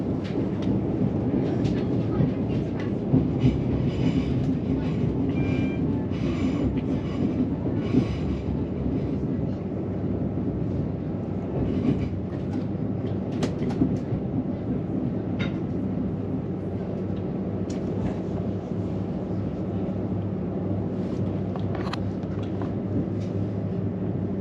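Steady rumble and rattle of a Southern passenger train running beneath the fast tracks, heard from inside the carriage, with continuous wheel noise, occasional clacks and faint squeals throughout.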